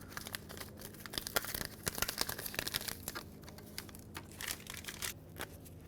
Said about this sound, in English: peel the back off of to install and glue onto the mirror